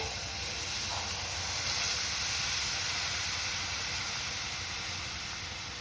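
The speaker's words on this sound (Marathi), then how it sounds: "थोडे थोडे करून दूध घाला." Milk poured a little at a time into a hot pan for shabu kheer, giving a broad, steady hiss that holds evenly loud and close throughout, with no talk.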